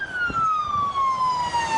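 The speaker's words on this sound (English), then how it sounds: "I hear an ambulance with its sirens on" An ambulance siren wails steadily, its pitch sliding slowly downward, with traffic rumbling underneath; no voices.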